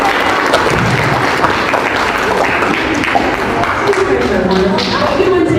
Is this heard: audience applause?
yes